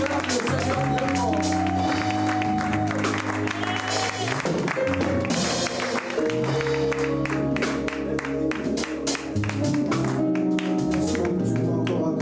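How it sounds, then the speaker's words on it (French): A worship congregation claps and cheers in acclamation, with sustained applause layered over loud music with keyboard and bass tones, and voices mixed into the crowd noise. "Lorsque le frère Jonathan s'approche, acclame le Seigneur pleinement"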